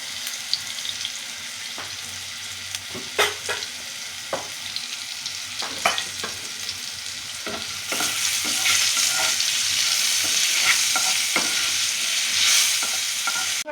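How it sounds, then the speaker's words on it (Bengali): Potatoes fry in a pan, giving a steady broadband sizzle that grows louder partway through, broken by repeated sharp scraping clicks as a spatula stirs them; close and fairly loud, with no voices. "আলুগুলো ভাজবো, নাড়াচাড়া করছি।"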